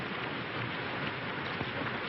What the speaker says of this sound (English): this rain